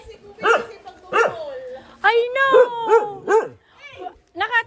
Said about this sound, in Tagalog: Agtaol man dahil ito'y aso mo.